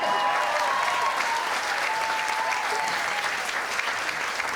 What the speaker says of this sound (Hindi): और भरपूर तालियां इनके लिए